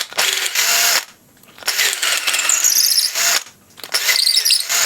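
An 8.5 mm drill bit bores into a wooden skew chisel handle in three loud bursts, each a grinding whine with high squeals, separated by short near-silent pauses.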